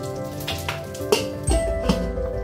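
Vetki fish paturi frying in a pan as a lid is set on top: a steady close sizzle with crackling pops throughout, a light metallic clink partway through, and no voices.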